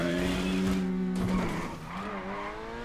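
Video game car in a time trial, engine droning steadily while tires skid and squeal through a turn, then the engine note drops and climbs again, moderately loud and alone.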